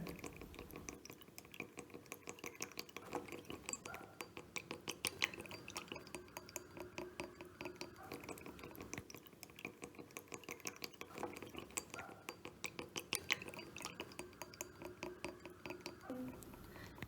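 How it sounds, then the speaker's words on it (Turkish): A stirring stick swirls paint into water inside a glass, producing a steady run of light clinks and scrapes against the glass that repeat rhythmically for the whole stretch at close range. "Karıştırma çubuğumla bir miktar boya alarak bardağıma döküyorum ve boyam eriyene kadar karıştırıyorum."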